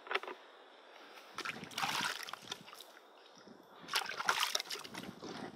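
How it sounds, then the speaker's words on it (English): Water splashing and sloshing as a dirty rubber sculling oar grip is rinsed off, in two short bursts of spatter and trickle against a quiet background. "all we need to do is wash it off"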